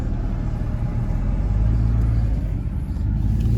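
A car with a steady engine rumble pulls out of a Harbor Freight parking lot, heard from inside the cabin, with a low constant drone.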